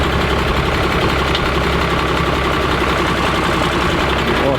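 A Cummins-engined truck, back in service after a gearbox repair, runs steadily at close range with a loud, continuous low engine drone and vibration, moving forward and back.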